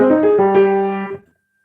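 A short low piano figure of a few notes from the left-hand part of Scott Joplin's "The Entertainer", ringing briefly and then stopping, played alone.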